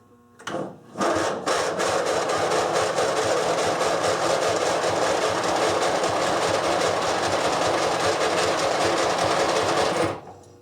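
A free lawn mower engine is cranked with a battery charger and starter, producing a loud, close, rapid rhythmic chugging that holds steady for about nine seconds without catching, then stops abruptly.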